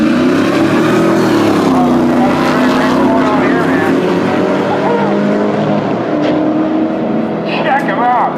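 Engines roar loud and steady in a 2003 Ford Harley-Davidson truck versus Corvette drag race, a sustained rising drone with shifting pitch as the vehicles run side by side, while people talk over it.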